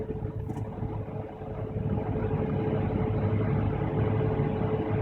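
Tractor engine droning steadily during an autonomous grain harvest, a continuous near hum with broadband rumble that stays fairly even, with no clear drop in pitch as it slows.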